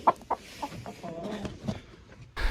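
A molting chicken in a snowy coop gives a few short clucks, close and fairly soft, with quieter rustling and scattered farm-animal sounds between the calls.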